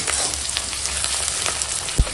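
Onions frying in a pan make a continuous dense sizzle close by, with a soft low thump near the end and no talking.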